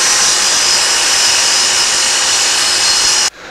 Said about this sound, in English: I've got to cut it to exact length, which I'll do on the CAPEX saw behind me.